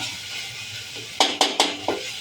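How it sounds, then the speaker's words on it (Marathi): Onion and tomato fry in oil in a pan with a steady soft sizzle underneath, then four sharp metallic clinks of a utensil against the pan in quick succession, close and without voices. "तोपर्यंत कांदा टमाटर फ्राय होतोय तेलामध्ये"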